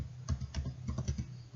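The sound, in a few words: typing commands on a computer keyboard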